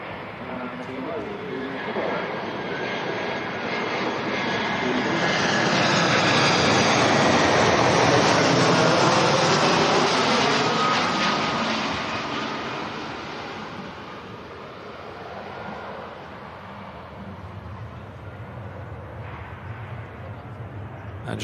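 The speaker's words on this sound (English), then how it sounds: "The EasyJet A320." An EasyJet A320's jet engines at Manchester Airport build into a broad roaring rush that swells, peaks, and slowly fades, heard from a distance with wind noise over the microphone.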